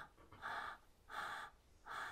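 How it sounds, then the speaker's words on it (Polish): Three slow, soft inhalations through the nose, evenly spaced and heard close up at low volume, with no talking. "Nie zamykając nozdrzy, tylko oddychamy wewnętrznym nosem w ten sposób."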